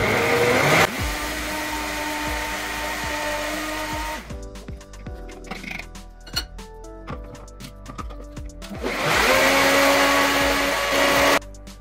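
A blender whirs loudly, mixing a gluten-free, sugar-free, protein-rich cake batter in steady bursts that pause briefly midway before spinning up again.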